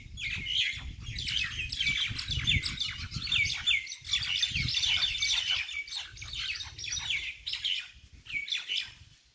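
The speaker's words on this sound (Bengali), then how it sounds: "বাজারে একটা পাখির ডাক" Many birds chirp and tweet continuously at a market in the morning, overlapping in a dense chorus, with a low murmur of background bustle underneath.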